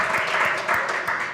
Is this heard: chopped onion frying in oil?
no